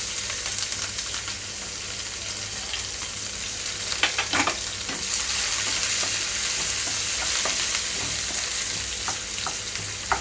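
Sliced onions and green chillies frying in hot oil with cumin seeds in a pan, a continuous close sizzle broken by occasional stirring clinks, with no talking.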